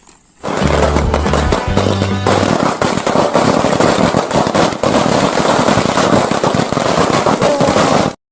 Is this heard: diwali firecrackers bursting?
yes